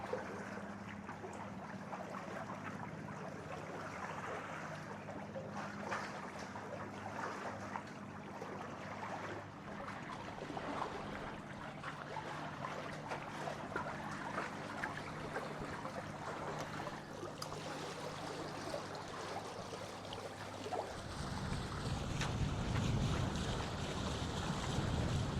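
A sailboat on a close reach in a steady southerly wind off the coast near Hole in the Rock Island, with constant rushing wind, hull and water noise and a low rumble that grows louder near the end.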